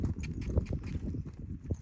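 Horse hooves clip-clop in an uneven walking rhythm during a groundwork lesson, soft and fairly faint, with no talk over them.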